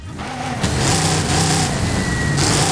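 A V8 diesel engine swapped into a Viper in Forza Horizon 5 drones and revs steadily, its deep rumbling tone surging and holding close and loud for a few seconds.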